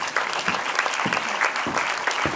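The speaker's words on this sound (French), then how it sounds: "Premier prix, on applaudit, s'il vous plaît." An audience applauds the first-prize winner at a short-film festival, a steady, dense wash of clapping from many hands that carries through the whole stretch without pause.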